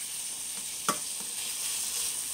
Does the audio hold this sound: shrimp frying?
yes